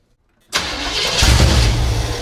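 After a shot of brake cleaner, the engine of a 1975 Chevy Monza that sat for 20 years bursts into life, loud and close, then swells into a rough, rumbling run.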